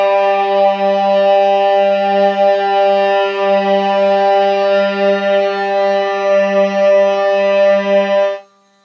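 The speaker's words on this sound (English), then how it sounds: "It takes a minute to find the sweet spot with the screwdriver." Electric guitar string excited by an Ebow and touched with a screwdriver, producing a steady, sustained buzzing drone with rich overtones that holds for about eight seconds, close and loud, before stopping.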